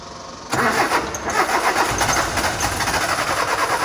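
A Peterbilt truck engine cranks and catches at about half a second, then keeps running with a steady, loud, slightly uneven idle.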